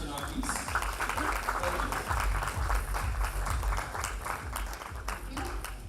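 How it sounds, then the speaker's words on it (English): Audience applause at a Women In Mobility diversity awards event as a guest is invited onto the stage, a steady wash of clapping lasting the whole stretch with a low rumble of room noise beneath it. "An round of applause for Mr. Chinoy, please."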